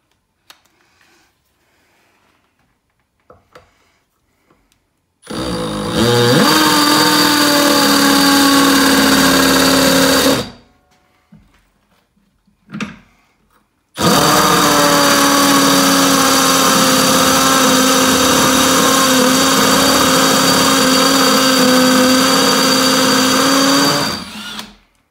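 A Milwaukee M12 hammer drill with a 1/2 inch chuck bores a 1/2 inch hole into a block held in a vise, running loud and steady in two long bursts separated by a short pause, with no talk.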